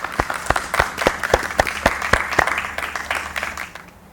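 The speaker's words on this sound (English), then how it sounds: "Let's join together and give all the staff a great round of applause." Sustained applause from an audience at a lower school speech day at Harrow Shenzhen, honouring the staff: dense, steady clapping with sharper individual claps standing out, fading away near the end.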